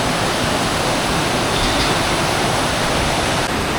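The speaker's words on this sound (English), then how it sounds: "I'm following basically just a river." A rushing mountain river in the High Tatras roars as a steady, loud broadband wash of water, continuous and close, with no voices over it.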